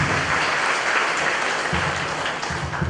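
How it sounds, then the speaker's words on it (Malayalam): Dense audience clapping at the inauguration of a palliative hospital link center in Varandara, loud and continuous for a few seconds, many hands at once with no talk over it. "നമുക്കൊന്ന് കൈയടിച്ച് തന്നെ അങ്ങനെ ഒരു കാര്യമായിരിക്കാം."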